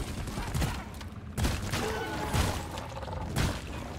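Gunfire from the co-op mining shooter Deep Rock Galactic during a boss fight, with several bursts of shots and impacts recurring about once a second over a steady, busy game background.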